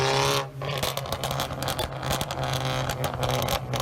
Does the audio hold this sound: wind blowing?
no